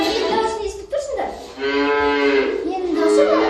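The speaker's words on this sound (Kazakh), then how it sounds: "Сиырдың дауысы екен," A cow on a village farm moos loudly and close by, with long drawn-out lowing calls that run almost continuously through the short clip.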